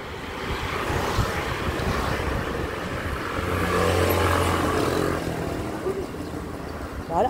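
Several motorcycles pass along a road near a strawberry farm, a steady broad engine drone swelling and fading as they go by, with wind noise and a person speaking over it.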